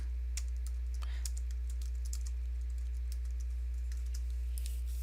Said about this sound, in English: prompt you for the message to decode, and then you'll have to type it in